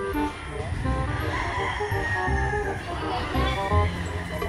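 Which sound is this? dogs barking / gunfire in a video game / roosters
roosters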